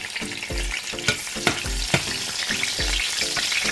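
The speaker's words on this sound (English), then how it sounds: "Alright, let me put my garlic in." Garlic fries in oil with callaloo while a spoon scrapes the pan in regular strokes, giving a steady sizzle marked by repeated thuds and clinks. No one speaks.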